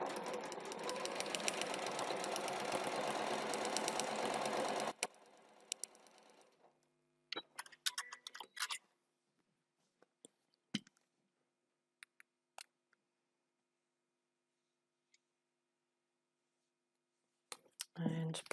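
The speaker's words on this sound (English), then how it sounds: "we're going to sew from one end to the other through the seam allowances at either end" A sewing machine stitches through the fabric seam allowances of a foundation paper pieced block, whirring loudly and steadily for about five seconds before stopping, followed by scattered light clicks and handling noises.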